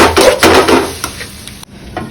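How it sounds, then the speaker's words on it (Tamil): Mint being stirred into beef frying in a pan, with loud scraping and clattering strokes against the pan over a light sizzle, fading to quieter stirring after a sharp knock. "ஸோ கைஸ் ஒரு புதினா ஆட் பண்ணி நல்லா மிக்ஸ் பண்ணி கொடுத்துடலாம்"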